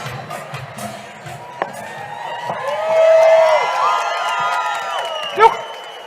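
An outdoor crowd cheers and whoops at a moderate distance, with voices rising into a swell of shouts and calls in the middle and a sharp burst near the end, over background chatter.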